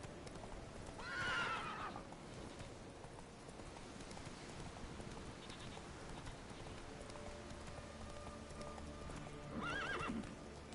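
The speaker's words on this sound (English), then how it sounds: "Go on, horse." Rhythmic hoofbeats of a horse in the video game The Witcher 3 clip-clop steadily throughout, with a horse whinnying near the start and again near the end.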